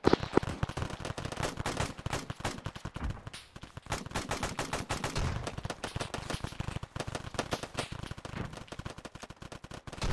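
Gunfire from the military shooter video game Arma 3: dense, rapid automatic bursts and single shots crackling nonstop, loud and close, with machine-gun volleys overlapping and no talking.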